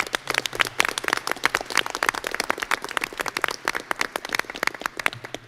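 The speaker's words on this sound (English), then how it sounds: "so round of applause for Mr. Powers." Audience applause at a school board meeting, a dense run of sharp hand claps from a roomful of people, steady and fairly close for the whole stretch with no talking over it.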